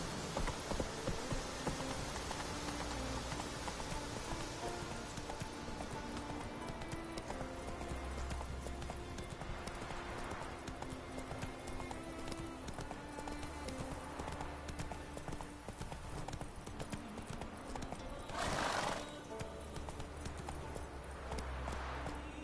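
Roach the horse galloping in The Witcher 3, a rhythmic run of hoof clip-clops with a neigh near the end, set against rain and soft ambient game music.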